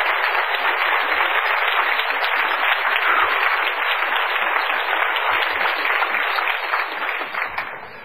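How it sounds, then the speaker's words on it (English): An audience claps in a sustained, even burst of applause, heard somewhat muffled and band-limited, tapering slightly toward the end. "Give her a round of applause"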